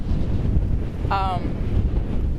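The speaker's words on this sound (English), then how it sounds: "it is so windy, it's so freaking cold" Strong, cold wind buffets a microphone outdoors, producing a continuous low roaring rumble, with one short tonal chirp cutting through about halfway.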